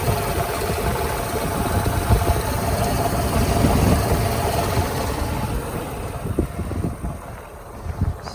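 Steady idle from a 1994 Mercedes-Benz S500 Coupe, a low continuous engine rumble heard nearby with some wind noise across the microphone and no speech.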